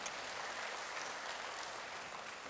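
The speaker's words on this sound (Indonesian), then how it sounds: "Berikan tepuk tangan bagi Tuhan." A church congregation claps for God during a sermon, a dense, steady wash of applause from many hands that holds at an even level from start to finish, with no voices over it.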